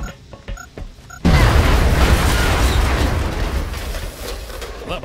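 A grenade in XCOM: Long War explodes with a loud, sudden boom after a second of quiet game sounds, then a long rumbling, crackling debris roar that fades slowly.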